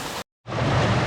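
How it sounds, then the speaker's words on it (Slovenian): A waterfall cascade in Jordan gives off a loud, steady broadband rush of falling water, briefly cut to silence before resuming just as strong. "Kakšna lepa kaskada."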